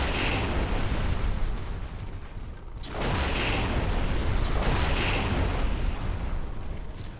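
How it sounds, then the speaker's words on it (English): Mortar turrets firing in the MechAssault video game, heard as loud, continuous rumbling blasts that fill the scene, with a brief dip before the heavy booming resumes. "there's the little mortar turrets they were talking about"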